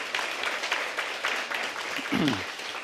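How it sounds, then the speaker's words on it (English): Audience applause for event sponsors such as Amazon Seattle at a pitch event, a moderate wash of clapping with a voice briefly heard near the end. "Give them a round of applause."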